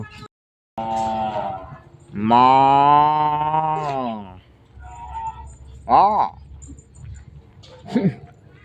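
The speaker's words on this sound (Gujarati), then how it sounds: "આમ જો કેટલી બધી ગાયો કેટલી બધી ભેંસો છે. આમાંથી કઈક તો ભાંભરડા નાખે છે." Cows and buffaloes at a village farm lowing, with several long, loud moos close by and shorter calls between them, some rising and falling.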